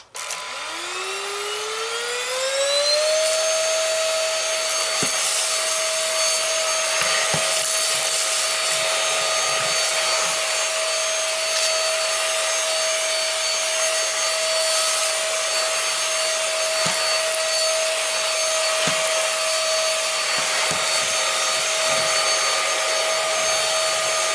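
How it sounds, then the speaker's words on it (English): A Greenote GSC40 cordless stick vacuum runs on its higher power setting, its motor spinning up to a steady high whine and then droning on, while scattered bumps and clicks of debris and movement sound over the floor. "let's increase this to higher power and see about just going over everything and getting a more thorough cleaning"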